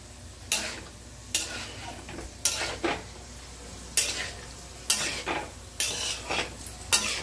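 Beans with turmeric stirred in a frying pan, a spatula scraping the metal in repeated strokes about once a second over a low sizzle, close and clear with no talk.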